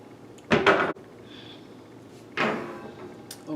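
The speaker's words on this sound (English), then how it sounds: "I'm going to close the door" A cabinet door swings shut in two bursts, a short rattling close followed by a second softer thud and scrape, near and fairly loud in an otherwise quiet room.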